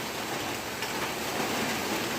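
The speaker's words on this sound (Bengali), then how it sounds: "সমানে বৃষ্টি হয়ে গেছে" Steady rain falls on a waterlogged street at 6:30 in the morning during the rainy season, a dense, even hiss of drops on surfaces with no voices.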